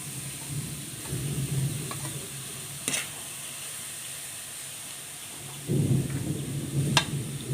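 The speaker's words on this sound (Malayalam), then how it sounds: "ഇതിലേക്ക് നേരത്തെ തയ്യാറാക്കി മുറിച്ച് വെച്ചാൽ നൂലപ്പം ഇട്ട് കൊടുക്കുക" Cut string hoppers stirred into a pan of cooked-down water for seva uppuma, a steady sizzle and scrape of a spoon against the pan with a couple of sharp clinks and a louder stir near the end.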